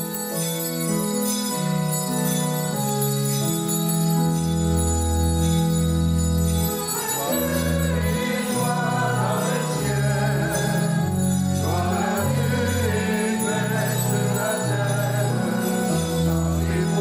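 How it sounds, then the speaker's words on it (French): Church bells rung by young people during an Easter Sunday Mass ring out loudly in a continuous, overlapping peal of sustained metallic tones, with no voices over them. "pour chanter la gloire de Dieu avec les cloches, on a besoin des jeunes"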